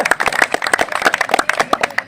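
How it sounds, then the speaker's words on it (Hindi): Lively clapping from a crowd at a sports academy gathering for Delhi Police physical-test runner Mukesh Lamba, dense, close and steady throughout. "जोरदार तालियां मुकेश लामा के लिए"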